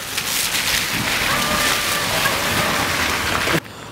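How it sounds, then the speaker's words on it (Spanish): Steady outdoor rain, easing off but still falling beside a sports court, makes a constant hiss with some wind noise on the microphone, continuous until it cuts off near the end. "Ya la lluvia ha amainado un poco, aunque sigue habiendo lluvia."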